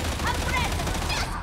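Rapid gunfire from mounted side guns in Warhammer 40k Darktide, a dense continuous rattle of shots heard under a player's voice talking throughout.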